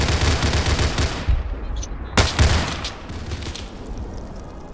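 Gunfire rattles through a shooter video game match during a house assault, with dense bursts of shots and a couple of sharp louder cracks near the middle.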